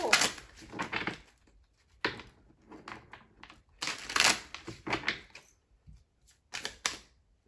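Tarot cards are shuffled in quick, crisp riffling bursts separated by short pauses, close and fairly quiet.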